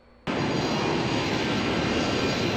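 Loud, shrieking jet engine noise heard from outside a 767-300 airliner in Flight Simulator X, starting abruptly and holding as a steady, harsh, broadband roar.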